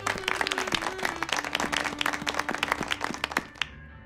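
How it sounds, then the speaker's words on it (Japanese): Applause from a small in-game crowd in The Good Life, honoring Naomi Hayward at a town victory party: scattered, fairly close hand claps over a low musical tone that fade out near the end. "ナオミ・ヘイワード君に大いなる拍手を"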